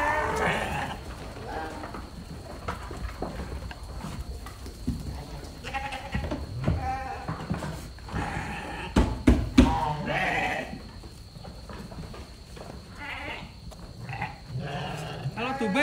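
Sheep and cattle on an Indonesian livestock farm, with bleats scattered through steady barn noise while people talk over it close by.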